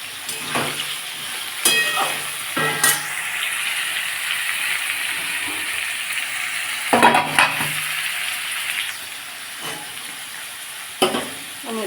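Fish head frying with gourd greens, pumpkin, pointed gourd, tomato and onion gives a steady, close, crackling sizzle. Sharp spatula scrapes and clanks against the pan come at intervals, with no talking.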